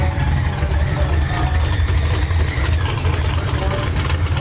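A no-prep drag racing car idles with a loud, deep, lumpy rumble that stays steady throughout, close by.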